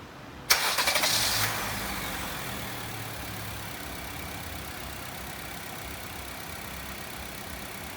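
A 2017 Honda WR-V engine starting: a sharp cranking burst half a second in catches quickly and settles into a steady, fairly quiet idle hum that continues to the end.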